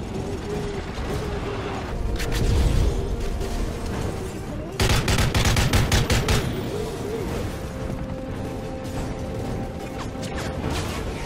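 Heavy automatic gunfire from the Modern Warfare 3 video game crackles in dense bursts, with loud volleys around two seconds and a sharper, stronger cluster of rapid shots from about five to seven seconds over steady battle noise.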